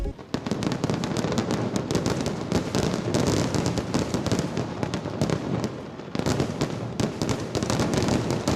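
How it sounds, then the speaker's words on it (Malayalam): Sample fireworks display at the Pooram festival, with Paramekkavu and Thiruvambadi setting off a dense, continuous barrage of loud crackling bursts and booms that barely pauses, with no voices. "പൂരനഗരിയിൽ വിസ്മയം തീർത്ത് സാമ്പിൾ വെടിക്കെട്ട്."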